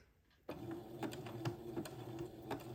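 A sewing machine stitches slowly as lace is tacked onto a dress being lengthened, a steady mechanical whir with regular needle clicks running close and fairly loud after a brief quiet start.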